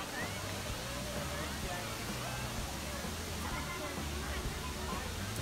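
Frenn Falls waterfall in Da Lat, heard as a steady, dense rush of falling water with no breaks, moderately loud and close, with a faint crowd murmur mixed into the roar.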